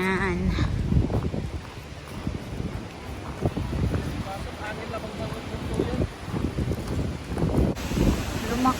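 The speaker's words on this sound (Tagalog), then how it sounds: "Lumakas ang hangin, guys. Masyadong lumakas ang hangin." Strong gusting wind buffets the microphone outdoors at a prairie hilltop preserve in Galena, Illinois, in fall drizzle, a steady roar with repeated louder surges, as people talk briefly underneath.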